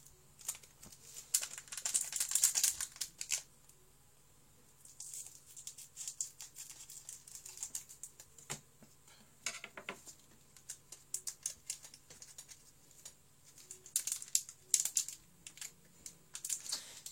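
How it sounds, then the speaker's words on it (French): Scissors snipping open Pokémon trading card booster packs, a series of soft close crisp cuts and crinkles in bursts with quiet pauses between. "je vais ouvrir les boosters avec des ciseaux parce que j'ai pas trop envie d'abîmer les images"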